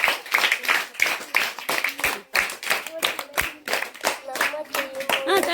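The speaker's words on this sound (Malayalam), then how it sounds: "അപ്പൊ ഈ ഗ്രൂപ്പ് വിന്നിംഗ് ഗ്രൂപ്പ് എല്ലാവരും ക്ലാപ്പ് ചെയ്യാം" Group of people clapping together for a winning team in a classroom-style game session, a close, lively burst of overlapping claps sustained throughout, with voices calling out underneath.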